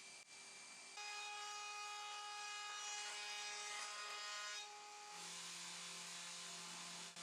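A table-mounted router cuts a wide chamfer along the inner face of an iroko wood board, giving a steady high-pitched whine that holds for several seconds, close and loud, then shifts to a lower pitch near the end.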